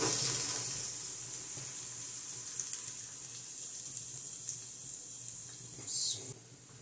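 Four garlic cloves sizzle in two or three spoonfuls of olive oil in a pan, a steady hissing fry throughout with a brief louder burst near the end.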